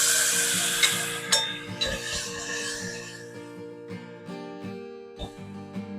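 Tomato pieces sizzle in hot oil with asafoetida and turmeric, a tempering for Gujarati mung curry. The sizzle is loud at first, then fades, with metal spoon clinks and stirring taps against the pan.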